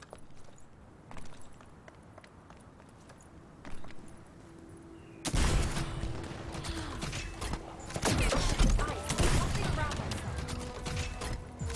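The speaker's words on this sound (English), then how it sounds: "Let's use the grenade launcher." A grenade launcher fires in The First Descendant, with heavy blasts and mechanical clatter bursting out after a quieter stretch, followed by repeated impacts and rumbling explosions.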